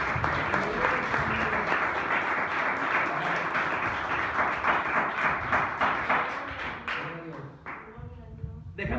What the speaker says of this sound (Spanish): dale un aplauso porque Él verdaderamente se lo merece